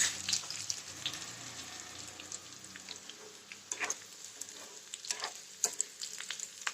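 Soybeans and a few peanuts dry-roasting in a pan, a soft continuous crackle and sizzle with scattered sharper pops and the occasional scrape of stirring, close and fairly quiet with no talking.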